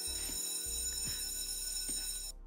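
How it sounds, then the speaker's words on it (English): In a video game, a fire alarm rings with a steady electronic bell-like tone, fairly quiet and continuous, cutting off at the end with no talk. "The fire alarm rings."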